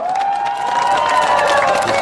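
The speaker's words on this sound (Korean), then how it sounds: "김대중 대통령께서 선택하신 대한민국의 주다르크 주미애 대표님께 다시 한번 큰 박수 부탁드리겠습니다." A crowd at a Korean political rally cheers and applauds, with a loud, steady wash of clapping under rising shouts and whoops.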